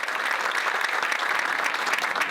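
An audience at a book launch breaks into continuous, dense applause, a steady wash of many hands clapping close and loud.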